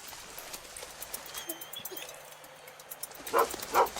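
Feral dogs bark at an otter family at the Sungai Buloh wetland sanctuary: two sharp, moderately distant barks near the end, over a faint outdoor ambience of birds and rustling.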